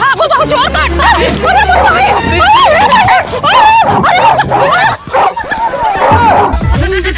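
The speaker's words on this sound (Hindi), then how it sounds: "कुत्ता आ रहा है पता नहीं किसका" A dog barks and yips repeatedly on a village street, close and loud, in quick irregular bursts. Excited voices talk over and between the barks.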